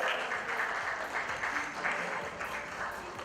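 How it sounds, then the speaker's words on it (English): Audience at a school principals' conclave panel gives a steady round of applause to welcome a speaker, even and moderately faint, continuing throughout without a break. "Let's welcome him with a huge round of applause."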